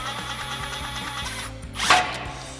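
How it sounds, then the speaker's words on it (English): A ratchet wrench works a bolt loose on the suspension of a Jeep Wrangler JL during a lift install, with a steady run of close, even clicks followed by a brief scraping rush. "We're gonna remove our bolt."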